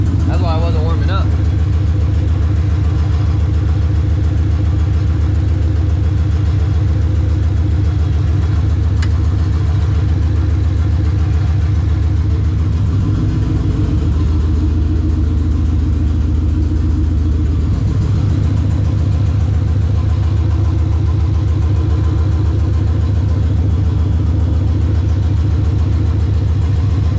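A Coyote V8 swapped into an SN95 Mustang idles loudly and steadily, its deep even rumble joined by the whir of the cooling fan, while a brief rise in engine note comes midway, and a voice talks over it.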